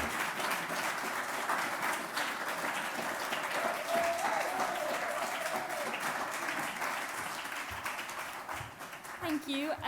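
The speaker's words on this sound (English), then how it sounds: "let's give them a big round of applause." Audience applause for first-time presenters at a higher education teaching and learning forum, a steady wash of clapping filling a hall throughout, with a voice faintly audible beneath it.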